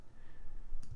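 A single computer mouse click near the end, sharp and close, made while drawing the nose of a skull emblem in Adobe Illustrator, following a quiet stretch of low room hum.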